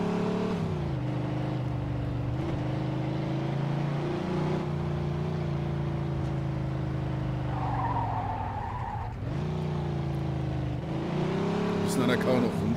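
Car engine in Mafia 2 droning steadily, skidding and squealing tires, the car handled badly, with a voice talking over it throughout.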